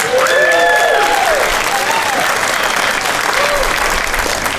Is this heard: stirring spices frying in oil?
no